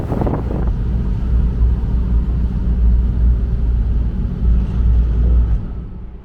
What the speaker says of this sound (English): There's a bit of breeze there still.